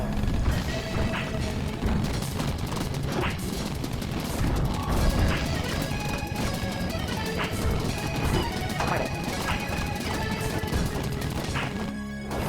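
Fireball weapon attacks in the video game Platypus Reclayed crackle and crash steadily, dense repeated impacts and bursts layered over game music throughout.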